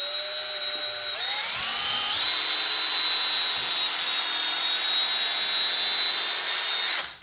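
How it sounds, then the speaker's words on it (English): A power drill driving a screw into a wooden frame, a high whine that spins up in steps and holds steady for several seconds before cutting off. "Just going to get our drill here and get this in there."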